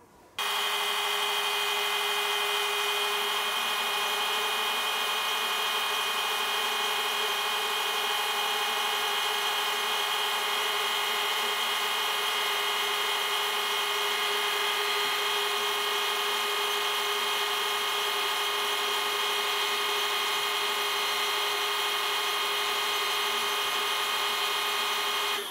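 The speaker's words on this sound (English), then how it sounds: "We're going to be testing this on our test rig here in Cowes on RXTS and XAS clutches." A rope test rig in Cowes drags 10mm Dyneema cruising line through RXTS and XAS clutches, a steady loud mechanical whine with a constant tonal hum, unbroken for about 25 seconds and no talking.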